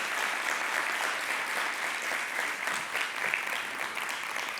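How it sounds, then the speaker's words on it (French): Steady, dense applause from a television studio audience on a French-language talk show, sustained and even at moderate level throughout with no voices standing out. "merci de vous applaudir encore"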